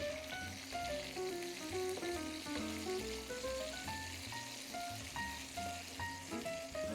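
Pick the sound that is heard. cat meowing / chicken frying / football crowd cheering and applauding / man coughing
chicken frying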